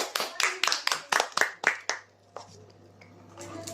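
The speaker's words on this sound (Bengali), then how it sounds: "সবাই একটা হাততালি দাও।" A small group claps hands in a quick burst of about ten sharp, close claps over two seconds, then quieter background noise follows.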